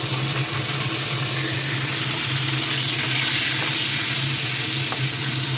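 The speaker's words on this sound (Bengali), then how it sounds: "আমি কপিটা ভেজে নেব।" Cauliflower frying in hot oil, a loud, steady, close sizzle with faint stirring scrapes and no speech.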